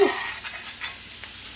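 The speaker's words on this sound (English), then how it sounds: "You gotta brown the meat first." Pork roast (Boston butt) browning in a pan, giving a steady close hiss of sizzling fat that continues throughout with faint crackles.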